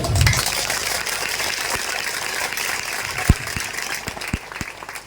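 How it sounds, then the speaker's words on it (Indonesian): Strong applause from an audience at a gathering honouring a farmers' group in Nabire, a dense steady patter of clapping throughout with a few sharper claps standing out near the end. "Kita tepuk tangan yang kuat dulu."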